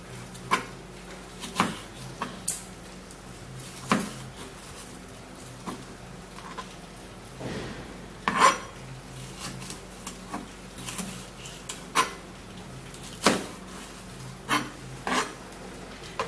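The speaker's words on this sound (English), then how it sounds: "you're going to cut the pepper" A knife slicing through a pepper on a cutting board to take out the seeds, giving scattered sharp taps and soft scraping at an irregular pace, quiet and close, with no speech.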